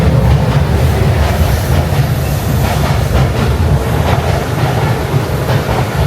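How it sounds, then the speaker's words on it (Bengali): A train rolls past close by, a loud continuous rumble with rhythmic clickety-clack of wheels on rails, heard alone without talk. "দেখেন ট্রেন যাচ্ছে।"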